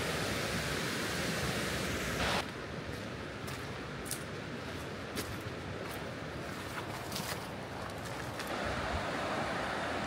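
A big rushing creek roars steadily on a winter forest hike, a dense broad wash of flowing water close by with faint light clicks and taps on top, and no talking.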